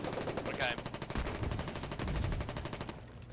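Rapid gunfire rattles through a Foxhole video game battle, dense bursts of automatic shots at moderate volume with a voice speaking briefly over the fire.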